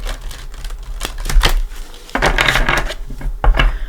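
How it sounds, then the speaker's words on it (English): Tarot cards shuffled by hand, a series of crisp riffling bursts and soft slaps close to the mic, with quieter gaps between, no talking. "let me give this a couple shuffles"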